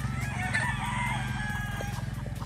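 Golden Boy roundhead chickens on a farm in Oklahoma, a rooster crowing and fowl calling faintly at a distance over a steady low hum, with no talking.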